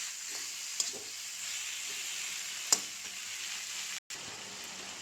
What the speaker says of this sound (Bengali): এখন এই পর্যায়ে দিয়ে দেব মাছের মাথাগুলো। দিয়ে ভালোভাবে নাড়াচাড়া করে নেব।